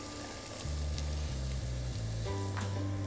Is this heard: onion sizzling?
yes